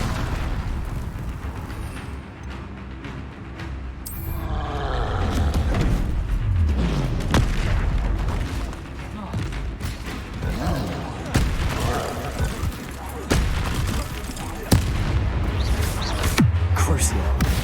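Confringo fire spell blasts in the video game Hogwarts Legacy, a string of booming explosive bursts mixed with other combat effects over about eighteen seconds, with a voice talking over them.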